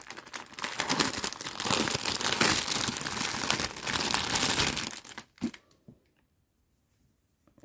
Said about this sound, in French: Je déballe ça.